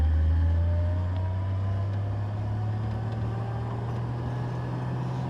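A Willys jeep engine idles steadily while sitting in snow, a loud, close, low rumble that holds constant throughout with no talking over it.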